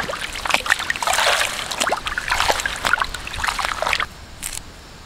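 Fresh drumstick leaves being swished and rinsed by hand in a vessel of water, with close splashing and sloshing that stops near the end, leaving faint trickles.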